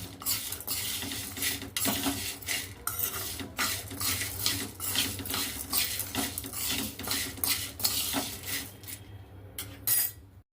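Roasted snack mix of pulses, peanuts and coconut is stirred in a metal pan with a spoon, giving continuous close scraping and clinking with dry rustling, steady and fairly loud throughout.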